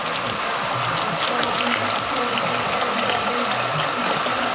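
Steady, loud gush of dirty coolant water draining out of a 2007 Ford Ka 1.0 cooling system, a continuous splashing flow with no talk.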